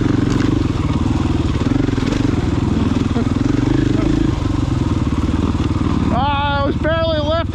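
Motorcycle engine pulling steadily in second gear on a southern loop ride, a loud continuous low rumble recorded close; someone speaks briefly over it near the end.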